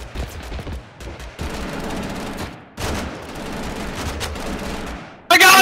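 Rapid bursts of gunfire in the video game Totally Accurate Battlegrounds, several close, loud automatic volleys separated by short pauses, ending in a sharp louder blast.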